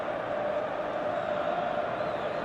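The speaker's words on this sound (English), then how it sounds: "The stadium is full of noise and energy." Steady stadium crowd roar from the eFootball 2026 football game on match day, a dense continuous wash of many voices at even, moderate loudness with no distinct cheers or breaks.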